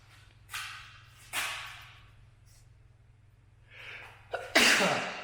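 A few sharp, bursty sneezes and breathy catches in a cinder block bathhouse on the Appalachian Trail, scattered over a few seconds, close and loud, the last one strongest, over a low steady hum.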